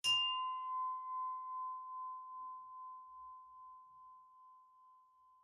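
A single bright ring from struck quartz glass, a clear high tone that lingers and slowly fades with a gentle pulsing shimmer in near silence.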